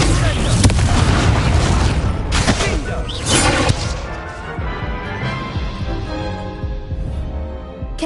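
An Incendio fire spell blasts in a Harry Potter video game with a loud, sustained roaring burst and crackling explosive rumble that gradually fades, mixed with game sound and a voice.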